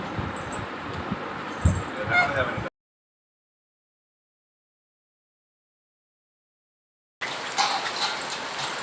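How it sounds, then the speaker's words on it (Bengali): Rain falls outdoors at a home as a steady hiss with faint patter, fairly close, broken by a long stretch of complete silence before the sound resumes; a few brief knocks and rustles mix in. "আরে বৃষ্টি চলে এসছে"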